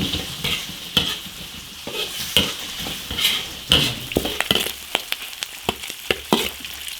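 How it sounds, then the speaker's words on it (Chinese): Cured pork (larou) stir-frying in hot oil in a wok: a steady close sizzle broken by repeated scraping and clanking strokes of the spatula, with no voices. "起锅烧油，加腊肉， 把腊肉这个香味炒出来"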